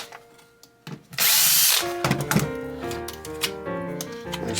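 A power drill spins out long, probably stainless screws from a power strip being stripped for scrap, with a loud whirring burst followed by rattling and ticking as the screw backs out, close up and without speech.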